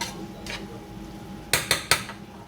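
Ingredients being mixed with an egg yolk in a dish of rice for a chicken and rice meal, three quick metal utensil clinks against the dish after a quieter scrape, close and distinct.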